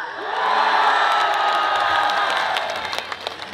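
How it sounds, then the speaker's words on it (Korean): An outdoor stadium concert audience at a citizens' day festival in Osan erupts in loud shouting and high-pitched cheering and whooping, a sustained roar that thins into scattered yells near the end. "다시 한번 소리 질러!"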